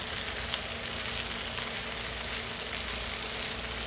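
Squash slices fry in butter in a pan, giving a steady, even sizzle and crackle that runs unbroken with no voices.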